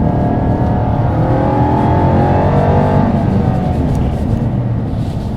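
A Jaguar Project 8's engine roars loudly as it accelerates hard, the pitch climbing through gears, close and continuous for a few seconds with no talking.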